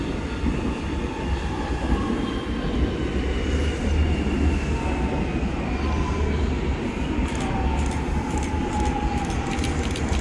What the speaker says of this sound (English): Here we have Aussie set 59 arriving on a South Geelong service.